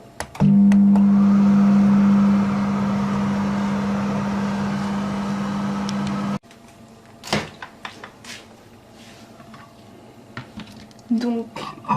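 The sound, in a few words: microwave oven running, melting white chocolate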